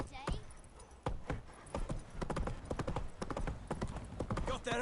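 A horse gallops in the video game The Witcher 3, its hooves drumming in rapid irregular clip-clops while voices talk over it.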